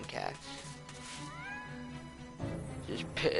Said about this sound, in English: There's so many fucking cats.